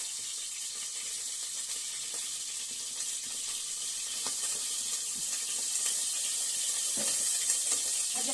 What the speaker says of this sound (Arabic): ونحط بس الميه اهي